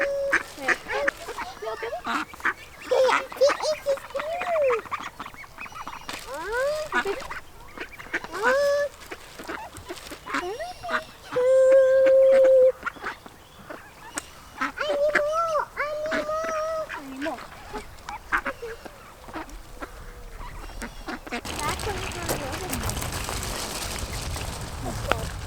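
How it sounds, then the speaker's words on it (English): Ducklings quacking repeatedly in a lakeside caravan park, their calls close and busy over most of the stretch, with people talking nearby. "Oh, ducklings!"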